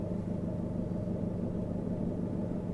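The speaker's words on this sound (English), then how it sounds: "I think there's a little stutter sound because the audio file is bad." Car engine in the night-driving game Night Drive, a steady low rumble held close and even throughout, with no voices.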